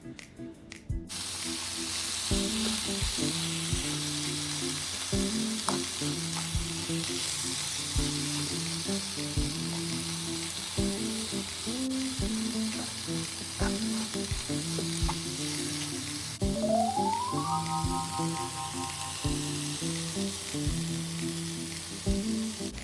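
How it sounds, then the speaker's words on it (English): Shrimp frying in a pan with cooked vegetables for creamy shrimp kimchi alfredo noodles, a steady loud sizzle with periodic scraping stirs throughout and a brief rising tone near the end. "I'm just going to cook that shrimp with those vegetables"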